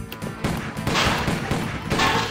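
Bursts of rapid gunfire and crashing impacts from a modded Doom video game fill a short, loud, dense stretch.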